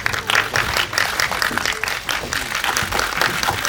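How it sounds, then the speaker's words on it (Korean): A crowd at a Korean film press screening for the movie Deadman claps steadily to welcome the director and actors Cho Jin-woong, Kim Hee-ae and Lee Soo-kyung. The applause is dense and sustained throughout. "큰 박수로 맞이하십니다."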